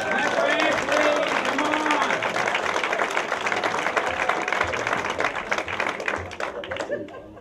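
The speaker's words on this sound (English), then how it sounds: "Help me welcome to the stage, Ashley Hebert. Clap for Ashley" Event audience breaks into warm applause and cheers as a speaker is welcomed to the stage, dense clapping from the start that gradually fades, with a voice heard briefly at the beginning.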